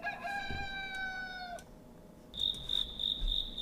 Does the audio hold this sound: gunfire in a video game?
no